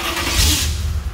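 A custom pearl white Chevy box car's engine catches and fires up in a short, throaty burst of revving rumble, close and loud.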